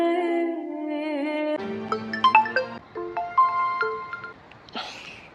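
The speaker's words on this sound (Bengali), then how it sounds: "এই তোর ফোন বাজে, ধর।" A mobile phone ringtone plays a sustained melodic tone, then switches to a bright, rhythmic tune of short plinking notes ending in a brief burst, loud and clear with no talk over it.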